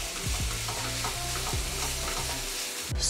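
Ground turkey for lasagna fries in a pan, a steady close sizzle with scraping stirring strokes, no talking.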